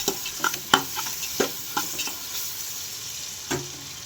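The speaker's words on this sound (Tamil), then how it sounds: "அடுத்து இஞ்சி பூண்டு பேஸ்ட்டு அதையும் நல்லா பச்சை வாடை போகிற வரைக்கும் நல்லா வதக்கணும்" Ginger garlic paste sautés in a pan for a goat head curry, with a soft background sizzle and intermittent close spoon scrapes and taps against the pan in an uneven rhythm.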